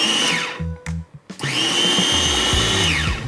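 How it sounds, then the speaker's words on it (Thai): A small baby food blender whirs at high speed, briefly pausing and restarting, then running steadily with a loud, even motor whine. "เสียงเครื่องถือว่าเบามาก ๆ ถ้าเทียบกับเครื่องปั่นรุ่นอื่นๆ"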